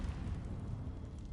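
Incendio fire spell cast in Hogwarts Legacy, a dense low roaring whoosh of flame that stays loud and steady for just over a second.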